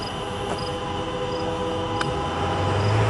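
A CN local freight train hauling double-stack cars rumbles steadily past a level crossing, with a continuous low roll and faint high squeals over the rails.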